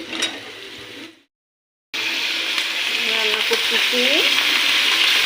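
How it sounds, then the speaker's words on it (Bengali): A spice paste with ginger garlic paste sizzles in a hot pan, a loud frying hiss that cuts out briefly, then returns steadily with a few faint squeaky scrapes over it. "পেস্টটাকে হালকা বাদামি করে ভেজে নিয়েছি এবং আদা রসুন পেস্ট দিয়ে দিলাম"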